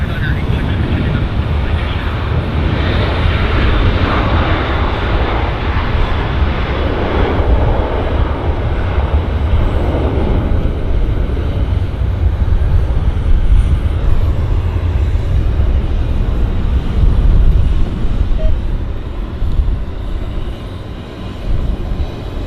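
A jet aircraft rolls for takeoff at Vancouver Airport, making a continuous, loud, broadband engine roar and rumble that holds steady for the whole stretch.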